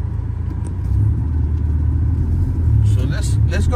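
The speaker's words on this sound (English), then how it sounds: "For two cars, they are passing right here." Cars pass on the road outside a VW Mk4 with its air conditioning running, giving a steady low rumble that swells as the vehicles go by, while someone talks over it.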